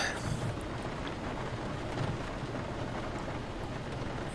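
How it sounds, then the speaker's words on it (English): Steady rain hissing down in a storm, with broadband wash and faint low rumbles of thunder, continuous and fairly loud throughout with no speech. "We know it's raining."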